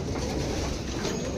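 Racing pigeons in a loft during training, their soft cooing and low murmuring running steadily and fairly close throughout, with no voices.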